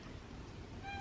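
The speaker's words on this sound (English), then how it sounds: "my cat is just meowing like crazy right now for no reason" A house cat meows once, a brief, faint call heard alone in a quiet room.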